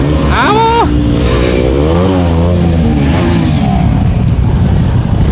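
Motorcycles and scooters revving loudly during a bike rally from Mintokgang to Rangpo, engine pitch rising and falling in quick throttle sweeps over a constant roar of nearby traffic.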